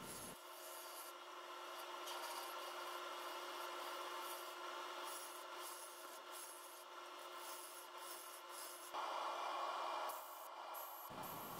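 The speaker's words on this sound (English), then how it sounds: "A combination of hand sanding, power sanding with a lathe on and with a lathe off." A wood and resin bowl is sanded on a running lathe, a steady soft rubbing hiss that stays even for about eleven seconds and grows a little brighter and louder toward the end, with no talking.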